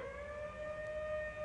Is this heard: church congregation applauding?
no